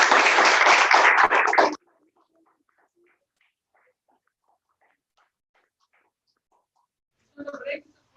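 Audience at a CGBMT foundation day event gives a dense, loud burst of applause lasting under two seconds, then near silence, with a brief, quieter spatter of clapping just before the end.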